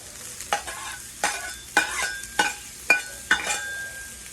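Onions are tossed and stirred on a hot Blackstone outdoor griddle, with a steady sizzle broken by six sharp metal spatula scrapes and clinks at a regular pace, close up and with no talk.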